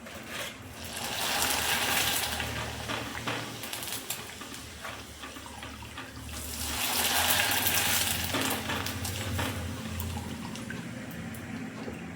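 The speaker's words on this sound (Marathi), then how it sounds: "बघू शकता तुम्ही तांदळाचे पापड आपले तळून तयार आहेत" Rice flour papads fry in hot oil with a loud, crackling sizzle that swells twice as fresh ones go in, a continuous bubbling hiss close up with no talking.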